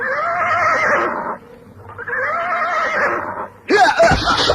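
A horse neighs loudly twice in a row, each whinny long and wavering, followed by a sharper, harsher cry at the end, all close and clear in a radio drama scene.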